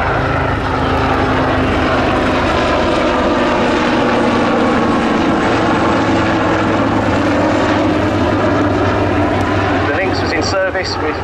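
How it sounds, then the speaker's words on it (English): Westland Lynx helicopter, a specially modified type, flying at the RAF Cosford Air Show, its loud, steady engine and rotor roar filling the air with a shifting drone throughout, while a commentator talks over a public address system. "a specially modified LYNX that still holds the outright world helicopter speed"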